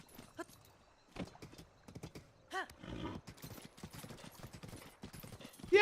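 Horse hooves clip-clop unevenly at a moderate distance, and a short whinny rings out partway through, over a quiet outdoor background.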